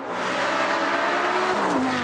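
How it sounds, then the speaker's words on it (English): A Lamborghini Gallardo Superleggera with straight-through exhausts roars loudly at high revs, its engine note climbing and shifting over a short, continuous burst. "The engine sounds fantastic because it's got straight-through exhausts on it."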